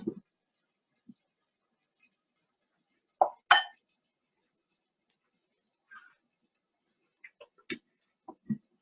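Lid set on a cooking pot of chicken biryani: a couple of sharp metallic clinks near the middle, followed later by scattered light taps and clatter in an otherwise quiet kitchen.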